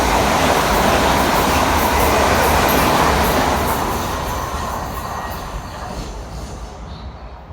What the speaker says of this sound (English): I'll show you with trains passing by